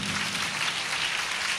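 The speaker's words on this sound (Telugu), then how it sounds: "చప్పట్లు కొడతాం అందరూ గట్టిగా" Church congregation clapping at a new church inauguration service, a steady wash of many hands applauding together, continuous and fairly close.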